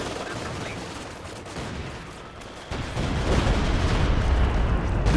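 An artillery barrage hits in Company of Heroes 2, shelling and destroying an enemy machine gun position. The heavy, rumbling blasts and gunfire grow louder partway through, and a commentator's voice sits beneath the noise.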